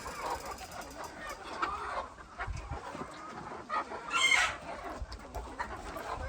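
Village chickens cluck and squawk nearby in a restless, uneven chatter, with a louder burst of calls partway through and faint background noise.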